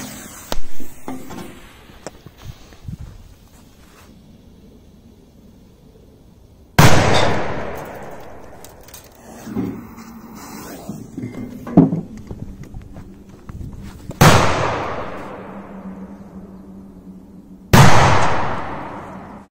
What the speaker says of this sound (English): Let's detonate a very powerful Corsair 16 and with it another firecracker.